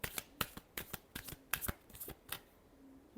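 Tarot cards shuffled in quick bursts, a series of crisp riffling flutters with short pauses between, close and fairly quiet with no voice over them.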